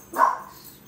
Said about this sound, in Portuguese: Até os cachorros dão glória a Deus